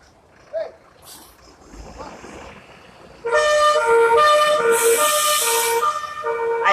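Fire truck siren at the blaze at the National Museum in Rio de Janeiro: faint crowd noise and scattered voices at first, then a loud, stepped wailing siren with a horn-like tone that sweeps in about halfway through and holds to the end.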